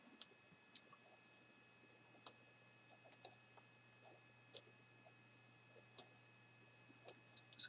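Playing cards drawn one at a time for the Sylvion board game: a handful of sharp, quiet clicks and card snaps spaced irregularly over a faint steady hum, with no talking.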